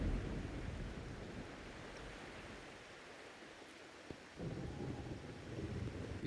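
Video game rain and thunder in Wuthering Waves: steady rain hisses while low thunder rumbles and swells, with a brief crack near the end and the storm surging louder, no voices.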